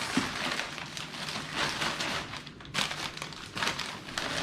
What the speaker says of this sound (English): Maybe I need to unwrap these